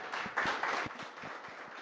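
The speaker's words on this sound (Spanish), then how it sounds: "Denle un fuerte aplauso ahí al Señor." A church congregation gives a short burst of clapping that peaks quickly and then thins out, with fairly close, fast, uneven claps.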